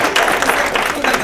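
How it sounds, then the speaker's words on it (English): An audience applauds a panel at a formal presentation, giving a short burst of steady, close crowd clapping. "Again, let's just give this panel a round of applause."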